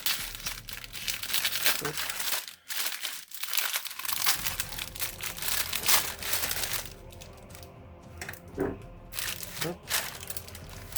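Plastic packaging crinkles and tears as a Warhammer Combat Patrol box is opened, with rustling and crumpling bursts throughout and someone speaking briefly in French over it.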